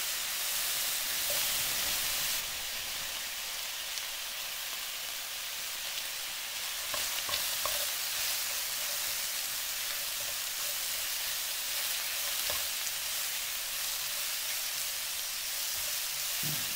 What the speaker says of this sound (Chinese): 需要一直翻炒它， 因为火始终都是开大的，我们需要多一点的翻炒它